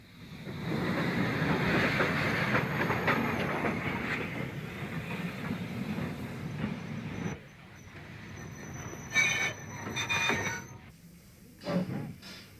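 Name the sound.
steam train on the Kent and East Sussex Railway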